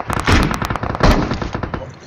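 Rapid automatic gunfire in the mobile game PUBG Mobile, loud and close, a dense rattling burst of shots continuing throughout with a brief pause in the middle.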